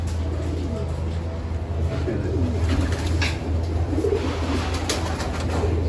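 Pigeons coo softly and repeatedly in a loft colony over a constant low background hum, with a few brief higher calls scattered through.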